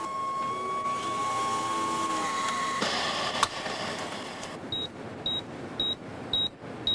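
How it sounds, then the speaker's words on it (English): A computer terminal in a lab gives a series of short, evenly spaced electronic beeps after a brief tonal hum and a click, fairly close and clear. "I programmed my terminal to beep whenever anyone logged into the lab."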